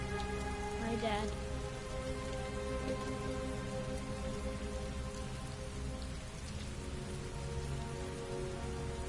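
Heavy, constant rainfall in the Heavy Rain video game, a dense hiss of drops on surfaces going on without a break, with a low steady rumble beneath and a brief musical tone near the start.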